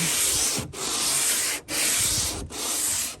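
An 80-grit longboard is pushed by hand across body filler on the door of a 1930 Ford Model A Fordor, giving loud, rasping strokes that come in about four long passes with brief pauses between them.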